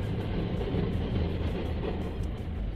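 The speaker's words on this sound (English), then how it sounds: "So, oh, there's a train coming." A train rolls past close by, a steady low rumble of wheels and cars filling the whole stretch at constant loudness with no break.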